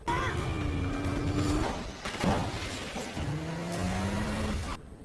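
Cars roar through a police chase scene in the film Lost Bullet, engines whining and revving loudly with a sharp crash midway, the pitch sliding as vehicles pass close.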